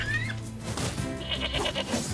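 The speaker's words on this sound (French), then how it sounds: "Oh les moutons, je vous laisse tranquille." Sheep bleat repeatedly in the video game NieR Replicant, with several overlapping, wavering cries close by over a soft game background.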